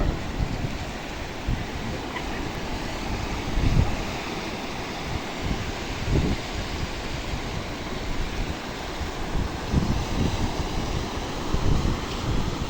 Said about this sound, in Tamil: ஓரளவான பெரிய பெரிய அலையெல்லாம் வருது